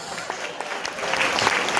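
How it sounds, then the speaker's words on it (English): Comedy club audience giving a round of applause, a steady crowd of clapping hands at moderate volume, continuous and building slightly toward the end. "Give yourselves a round of applause."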